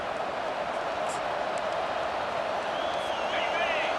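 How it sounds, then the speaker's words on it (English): Home crowd in EA Sports College Football 25 producing a broad, steady roar of cheering with faint whistles rising near the end, heard under a commentator's talk. "this home crowd is fired up and ready to make a difference today"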